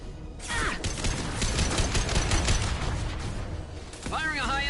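Heavy high-impact weapon shots fire in Mass Effect 2 amid dense battle noise, with sharp cracks and rumbling booms blending together, and character voices speaking over the start and end.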